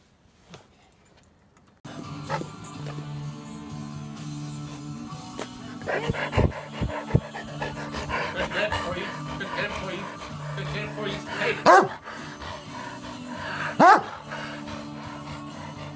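A dog pants and gives a couple of sharp barks amid a dramatic soundscape with music and background noise, the barks loud and close.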